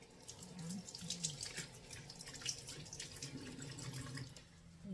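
Tap water runs steadily into a sink during washing in a home kitchen while cooking, a continuous soft splashing stream close by with no talk.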